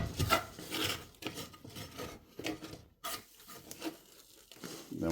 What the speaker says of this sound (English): Just scraping any of the excess sugar and cinnamon.